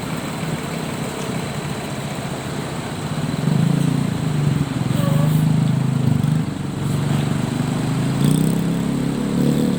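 Engine of a Gumarang Jaya bus fitted with a Mercedes-Benz OH 1526 NG chassis rumbles steadily at a busy West Sumatra rest area, a loud low drone that swells slightly partway through, with no speech.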